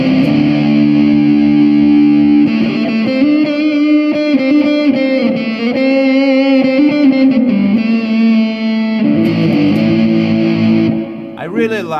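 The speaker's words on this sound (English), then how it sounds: "I really like this reverb." An electric guitar played through a Zoom G3Xn multi-effects pedal with HD hall reverb rings out in sustained, distorted chords and notes with long, washy tails, loud and continuous with no talking.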